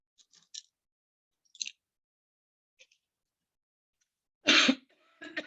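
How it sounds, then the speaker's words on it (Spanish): A single loud, close cough bursts out after quiet crinkling and rustling, followed by a brief throat-clearing sound. "voy a comer una pastillita porque justo me ha dado tos."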